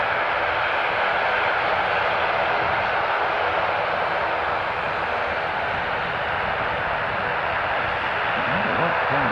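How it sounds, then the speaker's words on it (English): Aircraft engine testing at an airport, a continuous loud roar with steady midrange rumble and no breaks, heard from a distance without talk. "very noisy with the engine testing going on"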